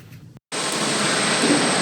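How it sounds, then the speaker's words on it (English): Steady loud broadband rumble and hiss of a nearby construction site heard from an apartment balcony, starting after a brief moment of silence and continuing unbroken to the end, with no talk over it. "I'm sitting on the balcony, and there's a construction site over there, so it's a little bit loud."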